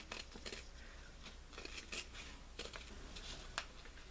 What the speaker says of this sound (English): I'm going to flip it over and just cut along the mark edges that I have here